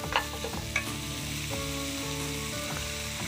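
Korean chili being stir-fried with minced pork in a pan, a steady close sizzle with scraping spatula strokes every half second or so, no voices.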